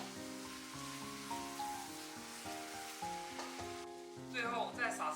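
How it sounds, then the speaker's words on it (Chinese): Shredded cabbage and glass noodles being stir-fried in a wok, a low steady sizzle and stirring under background music that grows louder and more crackly toward the end. "然后继续给它翻炒几下"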